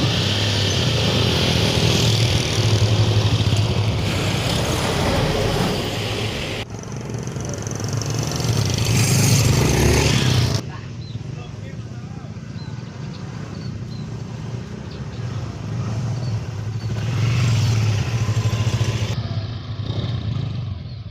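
Motorcycle engines roar and rev loudly up close, surging in bursts with rattling clatter, then dropping to a steadier running drone before revving up again.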